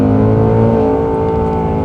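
A 2024 Ford Mustang Dark Horse V8 roars steadily at full throttle under hard acceleration, a loud, dense, sustained engine drone heard close up from the cabin without speech.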